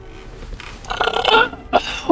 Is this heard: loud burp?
yes